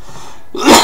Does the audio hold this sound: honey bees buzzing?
no